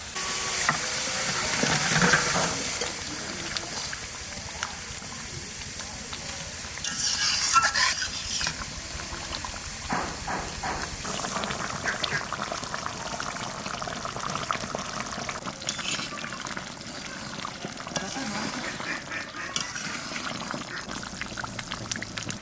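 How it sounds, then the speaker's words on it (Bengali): Katla fish curry simmering in a pot of boiling water, a continuous bubbling hiss with occasional stirring and splashing, steady and close, no voices. "জলে জাল উঠে গেছে, এবার মাছটা দিয়ে দেবো।"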